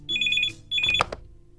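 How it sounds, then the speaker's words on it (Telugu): A telephone rings in two short electronic bursts, the second cut off by a click as the handset is picked up, in an indoor scene from a Telugu feature film. "ఫోన్ రింగ్ అవుతుంటే ఏం ఆలోచిస్తున్నావు?"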